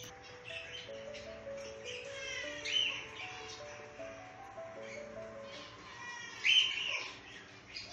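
Zebra finches at a nest box in a breeding setup give faint, scattered high chirps and tweets over a quiet background, with a few slightly louder calls.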